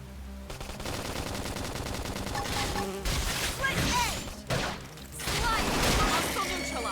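Rapid bursts of gunfire and crashing impacts in the video game Xenoblade Chronicles X, dense and continuous over game music and effects, with a voice speaking over the action.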